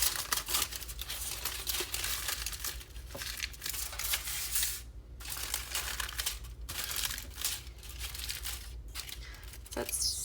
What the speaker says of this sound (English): we're just going to crumple the head down a little bit